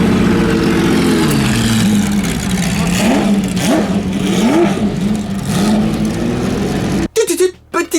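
A Porsche 917 racing car, road-registered, runs its engine at a concours d'élégance, a loud continuous mid-pitched roar with rising revs for about seven seconds before cutting off abruptly.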